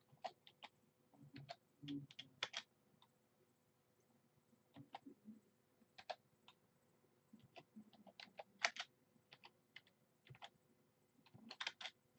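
Basic text being typed on a computer keyboard, with quiet, scattered clicks in short irregular bursts and pauses, fairly faint, with no talking.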